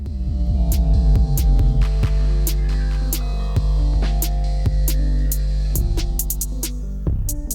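Electric hair clippers buzz steadily during a mid fade haircut, a loud, close, continuous motor hum with rhythmic clicks and brief snips over the top, no talking.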